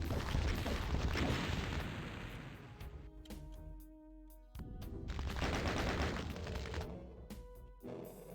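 Rocket launcher blasts in Doom 2 aimed at an Arch-vile, a loud burst of booming explosive shots in quick succession, a brief lull, then another cluster of heavy firing and impacts.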